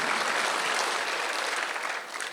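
A congregation applauds during a Sunday church service in a dense, steady wash of clapping that fades slightly near the end.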